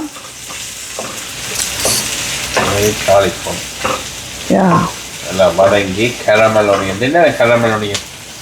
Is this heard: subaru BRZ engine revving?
no